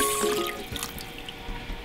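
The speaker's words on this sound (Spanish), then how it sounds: "Ahora le vamos a poner agua." Water pours into a cooking pot holding meat and corn for mole de olla, a close, continuous splashing and trickling with bubbly drips.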